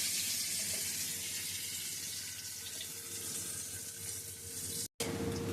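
Bay leaves and dried red chillies sizzle steadily in hot white cooking oil in a pan, a continuous close hiss with a brief cut near the end.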